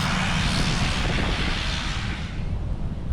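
A small propeller plane on a remote atoll runway in Likiep roars past up close, a loud broad engine drone that stays heavy and then eases slightly as it moves off.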